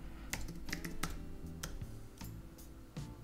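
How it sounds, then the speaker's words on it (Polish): Someone types a MySQL admin command into a command-line window on a computer keyboard, producing a quick, uneven run of close key clicks and taps. "Wracam do wiersza poleceń, wybieram komendę MySQL"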